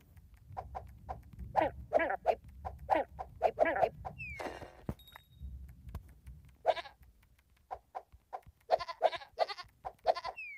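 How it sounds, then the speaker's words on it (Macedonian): A cartoonish sheep bleat repeats in short rhythmic bursts, mixed with game sound effects and a brief whoosh, from the black sheep in the Tap Tap Dash mobile game; no talking. "Еве црната овца што блее"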